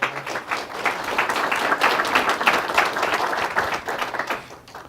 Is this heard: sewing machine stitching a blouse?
no